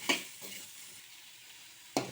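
Onions and bitter gourd sauté in a pan with turmeric and salt, giving a steady hissing sizzle with bursts of stirring scrapes at the start and end.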